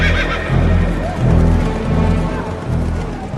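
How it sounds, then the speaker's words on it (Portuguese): Horses from a royal stable whinny loudly as sharp hoofbeats gallop past in a recurring rhythmic pattern, a close, busy sound effect. "os mensageiros montaram cavalos ligeiros da estrebaria real e saíram"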